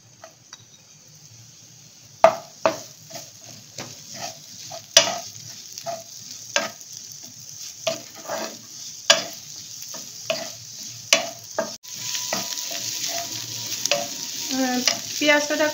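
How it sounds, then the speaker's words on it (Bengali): Onion fries in butter in a pan, a light crackling sizzle punctuated by a series of sharp clicks and scrapes from stirring, and the sizzle thickens and grows louder toward the end. "এরপরে আমি এই যে পেঁয়াজটা যেটা অনিয়নটা সেটা আমি এর মধ্যে দিয়ে দিচ্ছি ভাজার জন্য"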